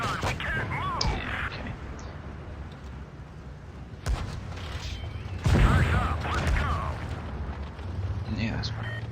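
In the World of Tanks Blitz video game, the E 100 tank's big 128mm gun fires in heavy booming blasts with mechanical clanks between the shots, plus a rumbling battle background.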